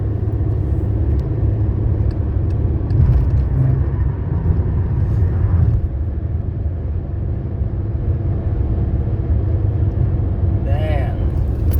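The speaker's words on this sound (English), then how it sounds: "These wheel bearings, man, they're bad. I'm actually going to show you a video of what it sounds like." Worn, failing wheel bearings on a moving Volkswagen car produce a steady loud low rumble and drone from inside the cabin, continuous throughout with road noise.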